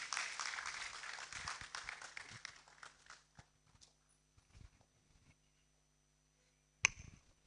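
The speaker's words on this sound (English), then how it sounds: "Let's welcome her with a round of applause." Audience applause welcoming the conference's local organising committee chair at a postgraduate studies conference, a dense burst of clapping that thins out over about three seconds into scattered claps, then a single sharp knock near the end.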